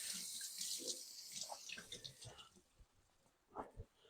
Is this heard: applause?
no